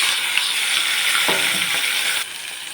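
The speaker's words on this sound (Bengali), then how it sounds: "এবার এই মশলাটা আমি সুন্দর করে এখন আমি ভেজে নেব।" Onion, tomato and green chili frying with dried red chili and cumin seeds in hot oil, giving a steady, close, bright sizzle with a few faint stirring clicks, which drops in level toward the end.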